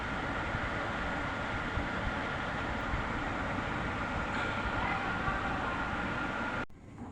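A small amusement park train ride at a resort rumbles steadily in a long, even run, then drops off sharply near the end, with no talking over it.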